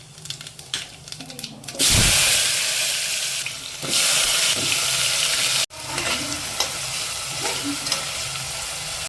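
Potato curry being tempered and stirred in a pan, with a loud burst of sizzling spitting as the spices hit the hot oil, then steady frying hiss and occasional scraping of a spoon against the pan.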